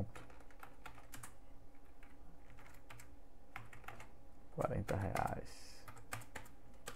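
Quiet, steady tapping of keys on a computer keyboard while text is typed in Photoshop, with a brief spoken phrase partway through.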